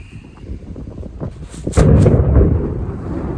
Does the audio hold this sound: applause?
no